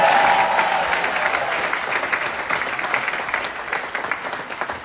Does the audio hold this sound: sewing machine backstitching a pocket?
no